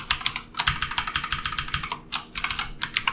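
Rapid, steady typing on a computer keyboard while writing PHP Laravel code, close and crisp keystrokes in quick bursts with a couple of brief pauses, no talking.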